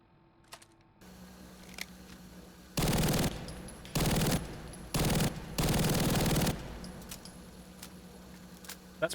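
P90 submachine gun fired in a video game, four loud sustained bursts of rapid automatic fire separated by short pauses, close and dense, with quiet clicks before and after.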